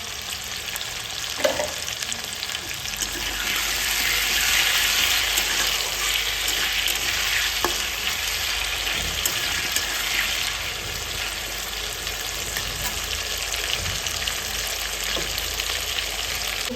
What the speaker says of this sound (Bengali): আলুটা যাতে খুব ভালোভাবে ভাজা হয় তার জন্য এর মধ্যে আমি দিয়ে দেবো লবণ